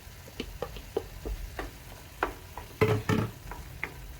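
Capsicum being stirred into wet fry goat meat (mbuzi) in a pan, soft sizzling under a series of irregular scraping and clacking stirs, fairly quiet and close.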